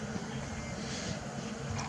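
An airplane passes overhead, heard as a steady, broad, even roar that holds at a constant level for the whole stretch with no voices.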